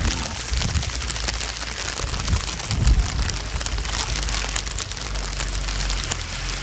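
Steady rain falls outdoors on a snowy morning, a dense, even hiss of drops on surfaces with no pauses, loud and close, with no voices.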